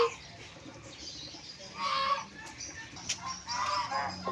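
Chickens and turkeys on a farm cluck and gobble in short bursts, a few moderately close calls rising and falling against a quiet outdoor background.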